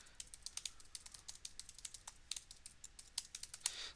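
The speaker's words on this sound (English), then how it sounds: "you could just type it in here" Fast, close keystrokes on a computer keyboard, a quiet run of crisp irregular clicks with brief pauses and a slightly louder burst near the end.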